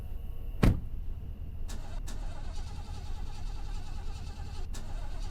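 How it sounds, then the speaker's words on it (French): Car failing to start in the horror video game Fears to Fathom: a sharp click of the ignition followed by a few faint clunks over a steady low rumble, with no engine catching. "La voiture ne voulait pas démarrer à nouveau."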